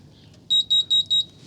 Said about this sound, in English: All right, that's the alarm.